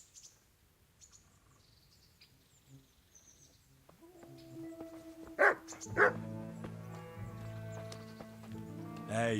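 A dog in the medieval game Kingdom Come: Deliverance gives two sharp barks close by, amid soft ambient game sounds and a swelling musical score.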